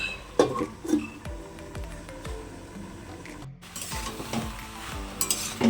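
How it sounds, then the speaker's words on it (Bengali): Bottle gourd cooks in a covered pan over a soft background sizzle, with repeated metallic clinks and spoon scrapes against the pan at an irregular rhythm, close and moderately loud. "একটু ভালো করে আর একটু কষিয়ে নেবো, ঢেকে আমি একটু কষিয়ে নেব।"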